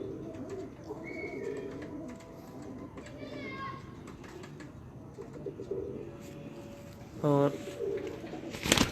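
Breeder pigeons coo softly a few times in a yard, brief gentle calls under someone talking and children chattering in the background.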